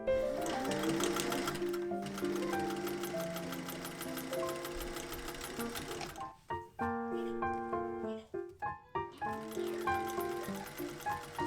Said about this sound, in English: Put two side pieces together and sew the seam with 3/8 of an inch seam allowance.